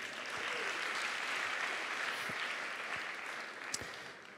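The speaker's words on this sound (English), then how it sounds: "Give yourself a round of applause." A conference audience claps steadily at a leadership talk, a dense, loud burst of applause sustained throughout with no voices over it.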